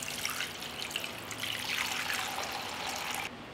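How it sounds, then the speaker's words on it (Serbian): Water pours steadily into a cooking pot holding a cloth and glass jars set up for pasteurizing, a close trickling splash that rises in pitch as the pot fills, then cuts off. "Sipat ću vodu u šerpu."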